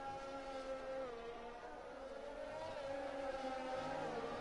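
Formula 1 race car engine at full throttle in F1 2020, a loud steady high-pitched whine with stacked harmonics, pitch sliding slightly as the car holds speed, no pauses.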